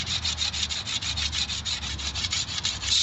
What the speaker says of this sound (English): Scrape off as much of it as you can without damaging the fibers too much.